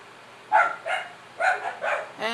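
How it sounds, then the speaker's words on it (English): A dog barks four times in a steady rhythm, moderately close and loud, followed by a brief higher whine at the end, heard indoors with no talking over it. "And my dog's barking."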